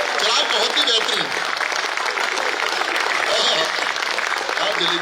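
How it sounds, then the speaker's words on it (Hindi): Audience applause at a Hindi comedy poetry recital, a dense, steady wash of clapping that fills the whole stretch at close, even loudness, with a brief dip and surge midway. "भाई एक बार जोरदार तालियां"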